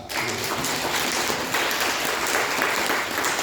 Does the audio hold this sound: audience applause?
yes